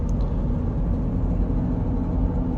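A 2023 Land Rover Defender 400 series cruising on the highway at about 75 mph, heard from inside as a steady, loud low rumble of road and engine noise with no breaks.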